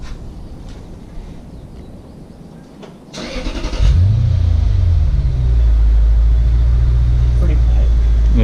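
A Lexus GS430 with a resonator and cat delete exhaust is started nearby: a short starter crank, then the engine catches into a loud, deep, steady idle rumble.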